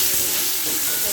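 Green beans fry in a pan with a loud, continuous broadband sizzle and hiss, steady throughout the short moment.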